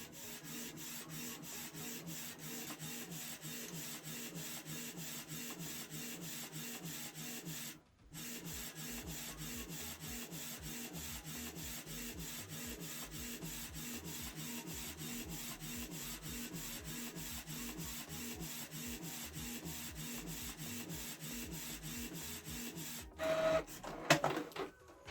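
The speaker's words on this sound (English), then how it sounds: "So we are printing using Canon print app." A Canon PIXMA G3410 inkjet printer prints a photo with a steady, close mechanical whirring and rhythmic rubbing of the print head, pausing briefly once, then ending with louder clunks as the page feeds out.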